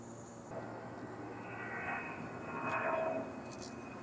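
A distant airplane drones overhead, its low engine rumble slowly swelling louder and then easing off again.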